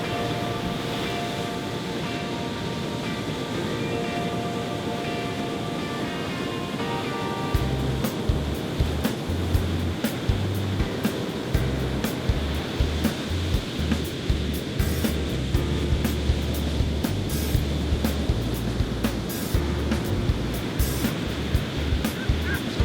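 Ocean surf on a beach between Ho-Hum and Smith Point Beach near Bellport, a steady roar of breaking waves with wind buffeting the microphone in bursts through the second half.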